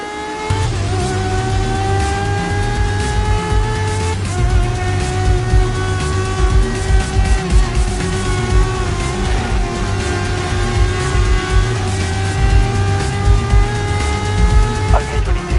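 Race car engines in the Grid Legends video game hold a loud, steady howl with pitch shifts at each gear change. Tire noise and a flutter of other cars rise and fall beneath it, and voices talk faintly over the racing.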